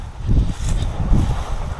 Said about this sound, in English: waiting for the wind to calm down here for a minute